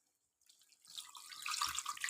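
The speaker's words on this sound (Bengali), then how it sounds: "আর জল দিয়ে দিলাম, একটু জল দেবো, ওটা সিদ্ধ হতে সময় লাগবে।" Water is poured into a pot of Bengali chicken curry (murgir jhol): a faint trickle starts after a short silence and swells into a steady, splashing pour that grows louder to the end, with no talking.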